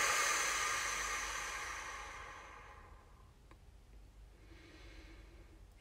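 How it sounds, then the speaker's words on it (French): A long, slow exhalation through the mouth during a guided relaxation exercise, breathy and close, fading gradually over several seconds into quiet. "Expiration."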